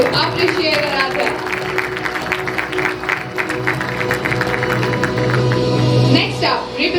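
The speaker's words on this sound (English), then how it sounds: "A huge round of applause to appreciate Aradhya." A school investiture ceremony crowd breaks into sustained applause, dense clapping from many hands continuing steadily for several seconds, with voices mixed in.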